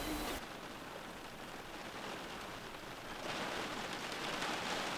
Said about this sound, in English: It's a nice campground, but it is raining